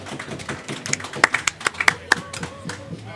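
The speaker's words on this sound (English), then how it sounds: "And the crowd goes wild." Scattered clapping follows a pool match, a small crowd applauding in uneven taps with a few louder claps, while voices murmur underneath.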